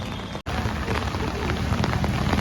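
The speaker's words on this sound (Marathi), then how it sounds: "तुम्हाला हा पाऊस बघून अंदाज येत असेल की किती जोरात पाऊस चालू आहे" Heavy rain pounds down in a dense, steady hiss and patter, briefly cutting out near the start before resuming at full strength.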